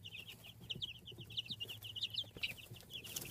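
Two-week-old chicks peep softly in a rapid, continuous stream of high chirps, heard faint and close with a low hum in the background.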